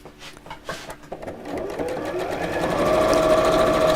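A sewing machine stitches small fabric pieces together with a quarter-inch seam, starting with a few short bursts and then running into a steady, rapid mechanical whir that builds in loudness, close up.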